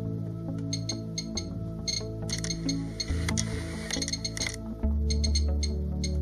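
Uranium glass pieces clinking as they are handled, a run of bright, irregular glassy taps and chinks close up, some in quick clusters, over a quiet low hum.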